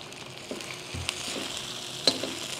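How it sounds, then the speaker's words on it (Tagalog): Onions sautéing in oil in a wok, a steady soft sizzle with occasional clinks and scrapes of a utensil stirring, close and fairly quiet throughout. "Tapos magigisa na tayo ng sibuyas"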